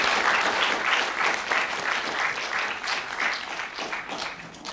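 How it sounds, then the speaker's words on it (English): Steady applause from an audience at a university ideas forum on genetic engineering, a dense wash of many hands clapping for the whole stretch, fairly loud and with no talk over it. "Give her a round of applause, please."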